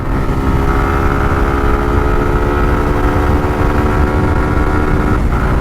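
A motorcycle ridden fast at around 115 km/h gives a loud, steady engine drone with a sustained whine, constant and close, with no talking.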